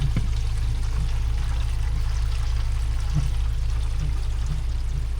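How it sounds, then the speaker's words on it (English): Water pours steadily out of a partly filled kitchen sink as the drain is opened during sink plumbing work in a house build, a continuous close rushing and gurgling flow with no talk. "We're gonna go ahead and take the drain out"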